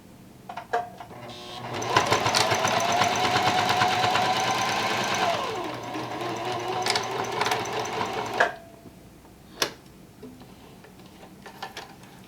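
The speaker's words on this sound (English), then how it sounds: "We're going to sew right along that line." Sewing machine stitching a curved seam on a fabric face mask, a close, steady whirring run of rapid needle ticks lasting several seconds, then stopping, followed by a few isolated clicks and taps.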